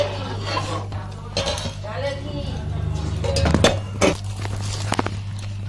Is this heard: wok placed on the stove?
yes